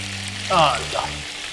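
Masala paste of raw onion and chili frying for a mutton curry in a pressure cooker, a brief loud sizzle burst that swells and fades over a low steady hum.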